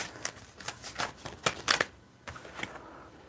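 Tarot cards shuffled up close, a quick series of crisp riffling and slapping bursts over a few seconds, with no talk.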